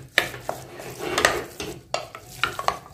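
A spoon stirs grated carrot halwa with sugar and ghee in a pressure cooker pot, with sharp scrapes and clanks against the metal at an uneven pace and a soft sizzle between the strokes.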